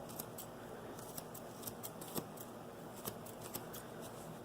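Scissors cutting, with quiet, irregular snips and clicks of the blades closing in short bursts, close by and with no talking.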